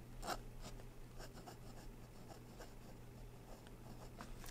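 Aurora Talentum fountain pen nib scratching softly across paper in quiet, close strokes, a faint steady rasp with small pauses between words under a low background hum.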